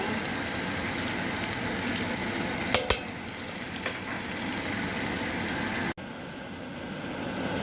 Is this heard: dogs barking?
no